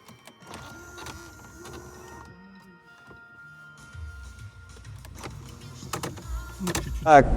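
The electric window motor of an Audi A8 D3 whines in runs inside the cabin, mixed with clicks and soft thuds, and the motor hum grows louder toward the end.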